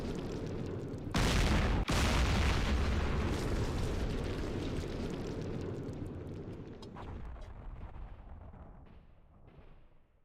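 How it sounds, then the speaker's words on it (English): A tank gun fires at a distant ATGM team in a Yom Kippur War strategy game: one loud, close boom with a sharp crack, then a long rumbling roll that slowly fades, with no voices. "keep trying to hit that ATGM at distance with this tank"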